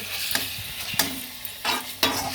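A pasta snack gets mixed with pepper powder in a pan: several close, sharp scraping stirs over a low, continuous sizzle.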